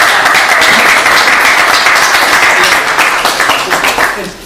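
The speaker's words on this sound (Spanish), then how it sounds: "un aplauso para Leticia" Loud, dense applause from a lecture audience, steady clapping that begins to fade toward the end.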